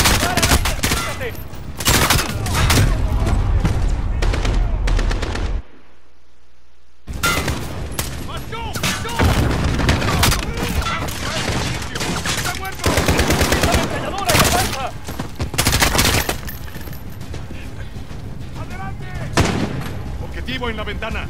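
Call of Duty Modern Warfare machine guns rattle in long, loud automatic bursts. One brief lull breaks the fire, with shouting voices mixed into the battle noise.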